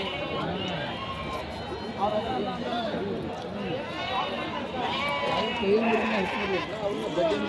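Sheep and lambs bleat repeatedly in a busy Haveri sheep market, near and far, with people talking and chattering throughout.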